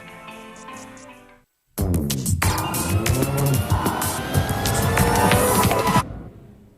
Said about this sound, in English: Workers start up the ignition and run the van through a series of tests